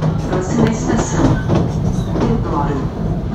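A SuperVia commuter train on the Central do Brasil to Deodoro line in Rio de Janeiro rumbles steadily into a station, carriage noise and wheel clatter filling the cabin at a constant loud level with a faint screech near the end.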